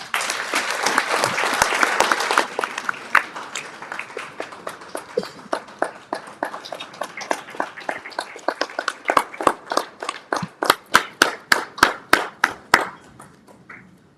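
Audience applause at a university partnership forum: a full burst of crowd clapping that thins out into a few distinct, spaced individual claps before dying away.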